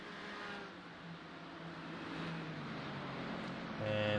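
BMW race cars on the Nordschleife in a sim racing game: a continuous engine drone with a steady whine, rising slightly and growing louder near the end, as if accelerating past.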